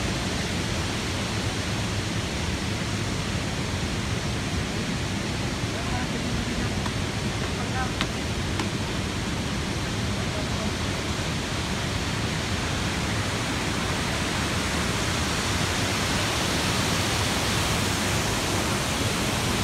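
Constant heavy roar of the Tzaráracua waterfall in Uruapan, Michoacán, a thick, even wash of cascading water heard close by throughout, with only faint brief clicks on top.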